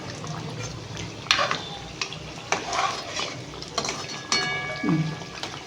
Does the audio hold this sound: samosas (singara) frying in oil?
yes